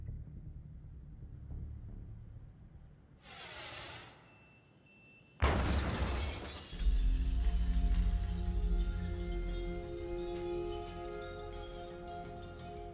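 A wooden 8-foot 2x4 fired from an air cannon at 60 mph shatters a pane of normal glass in a hurricane-debris test: a sharp hiss, a sudden loud crash, then a long clattering, ringing spray of falling shards.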